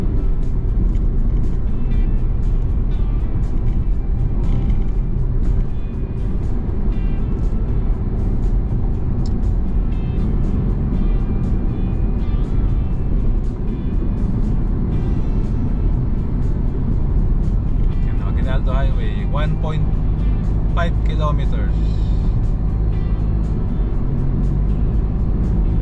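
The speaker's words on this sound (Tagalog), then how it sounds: "Traffic." Cars drive along the CALAX expressway toward the Aguinaldo Highway exit, heard as a steady in-car road roar and tire rumble with a few faint squeaks near the end.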